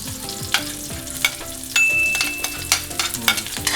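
Garlic sautés in a hot pan for chop suey, a steady close sizzle broken by repeated sharp scrapes and clinks of stirring.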